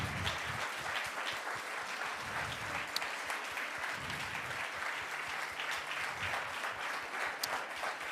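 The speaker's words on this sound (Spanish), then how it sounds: "Si ese aplauso es para Dios, dáselo fuerte" A church congregation applauds during a Spanish-language sermon, producing a dense, sustained wash of many hands clapping that stays loud and even throughout with little voice.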